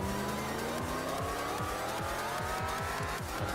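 Race cars in Gran Turismo 4, including an RX-7 and NSXs, roar through a session with engines revving up and down in repeated shifting sweeps and tires squealing over the top, a continuous loud mix without talking.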